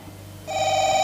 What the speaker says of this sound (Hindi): फिर काकर फोन आ गए